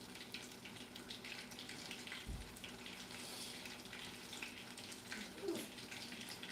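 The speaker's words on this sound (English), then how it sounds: "But it's still sizzling, so that's good enough." Meatballs sizzle quietly in hot frying oil for a meatball sub. A faint, continuous crackling hiss carries a few small pops.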